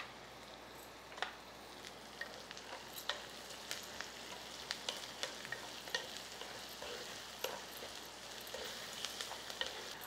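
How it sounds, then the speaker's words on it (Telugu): Green chillies and curry leaves frying in a pan, a quiet continuous sizzle with scattered sharp pops and occasional stirring scrapes throughout. "అప్పుడప్పుడు కలుపుతూ ఇట్లా ఒక 2-3 నిమిషాలు వేయించండి."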